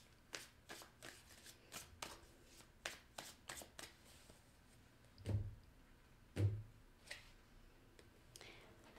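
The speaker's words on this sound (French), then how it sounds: "Je vais sortir 2 cartes d'ici." Tarot cards are drawn from a deck in a run of quick, crisp card snaps and flicks, with two heavier thumps near the middle. The sounds are fairly close and alone, with no speech.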